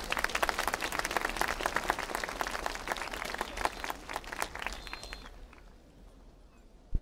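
Sustained applause from a large crowd at a rally in Oradea, Romania, dense clapping that swells and then fades toward quiet, with scattered cheers and a sharp knock at the very end.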